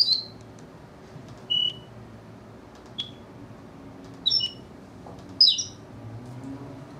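A single bird sings short, high, clear chirps and whistled phrases at irregular intervals over a quiet low background hum, close and distinct.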